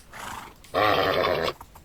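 A white horse neighs in the video game Minecraft, one loud drawn-out whinny lasting under a second, preceded by a softer breathy snort, with no talk.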